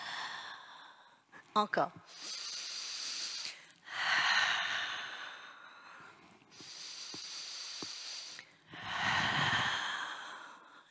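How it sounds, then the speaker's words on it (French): Slow, deep breaths in and out during a Pilates exercise, long airy exhalations and inhalations repeating in a calm rhythm, close and soft, with a voice briefly speaking. "Expirez. Inspirez. Expirez. Inspirez."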